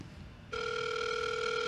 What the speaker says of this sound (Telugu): మళ్ళీ ఎవరో ఫోన్ చేస్తారు